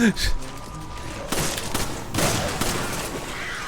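Rapid gunfire bursts from the co-op video game Resident Evil 5, loud and dense, with a sharp cluster at the start and heavier volleys near the middle and end.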